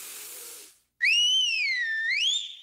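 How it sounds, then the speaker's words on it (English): A single loud, clear mouth whistle that rises and dips in pitch, held for about a second and a half after a short hiss. "He whistled so loud, he called a taxi."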